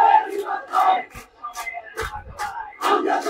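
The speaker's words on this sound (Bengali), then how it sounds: "তারা বলছে এটা হতে দেওয়া যাবে না, এরকম একটা স্লোগান নিয়ে তারা র্যালি করছে বা স্লোগান দিচ্ছে।" Protest rally crowd in Dhaka chanting slogans in unison, voices rising and falling in repeated rhythmic bursts, loud and fairly close, with no separate talk over them.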